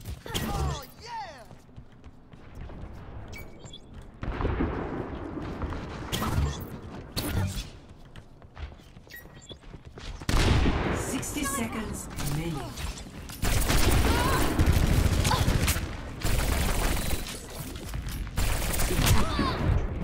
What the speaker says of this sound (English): Let's hear those guns.